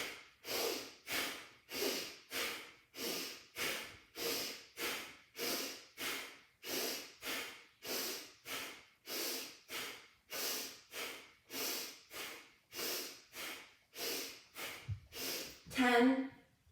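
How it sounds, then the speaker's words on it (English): Someone doing a yoga breathing exercise takes strong, forceful breaths through the nose at a steady rhythm, about one per second, around fourteen in a row, close and clear with nothing under them. "Take a clearing breath here, in through your nose."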